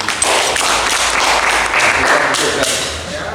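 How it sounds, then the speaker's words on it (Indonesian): A class of students claps for a classmate in a school lesson, a brief, fairly loud burst of group clapping that stays steady and then eases off. "tepuk tangan untuk Dani"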